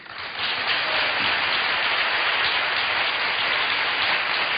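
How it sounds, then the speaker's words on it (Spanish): A studio audience on the Spanish show La Semana Más Larga applauds its two guests, a dense, steady wash of clapping from many hands that swells in quickly and holds at full strength. "yo os pido un fuerte aplauso para nuestros dos invitados, Pedro Vera y Antonio Carbonell"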